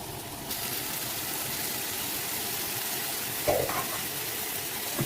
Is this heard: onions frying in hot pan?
yes